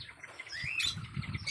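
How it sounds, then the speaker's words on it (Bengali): Chirping bird calls from a bird at a resort park, a few short tweets rising over a low background murmur, moderately close and clear. "এই পাখিটাকে দেখো, এই দেখো কি সুন্দর পাখি।"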